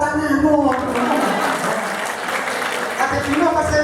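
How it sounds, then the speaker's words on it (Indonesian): Audience clapping at an Indonesian character-building event for young people, a burst of hand claps close by with voices talking and calling over it. "Tepuk tanganmu."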